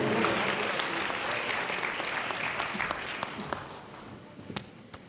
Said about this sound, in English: Give him a round of applause, baby rattlers.